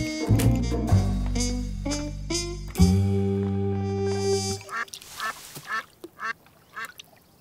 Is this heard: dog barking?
no